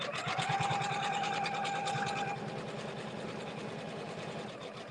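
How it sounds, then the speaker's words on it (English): An embroidery machine stitches out a design at a live demonstration. Its rapid, steady mechanical needle rhythm runs throughout, loud and close, easing slightly softer partway through, with no talking. "And then I'm going to go again and watch it stitch out."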